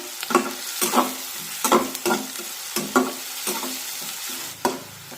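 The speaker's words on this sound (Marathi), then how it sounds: "आता हा कांदा मध्यम आचेवर छान तांबूस रंगावर येईपर्यंत परतून घेऊया।" Chopped onion sautéing over medium heat in a pan, a soft steady sizzle broken by repeated scraping stirs at a fairly even rhythm, close and clear with no talking.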